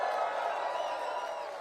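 A crowd cheers at a Pierre Poilievre political rally, a brief, moderately distant wash of voices and whoops with no one speaking.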